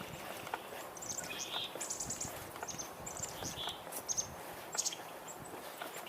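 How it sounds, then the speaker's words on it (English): Chickadees calling outdoors in autumn: several faint, high, thin chirps scattered over a steady noisy background, fairly distant and intermittent, with no clear talk. "And I'm hearing a chickadee."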